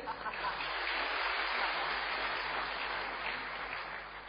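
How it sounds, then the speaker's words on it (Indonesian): Steady applause from an audience at a Dhamma talk on living successfully, a dense even wash of clapping that holds from start to finish with no voices over it. "berikan tepuk tangan dulu buat Bante."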